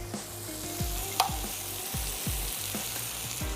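Prawns sizzle in fried masala over high heat, a steady close frying hiss with a few stirring scrapes and a low background hum, no voices.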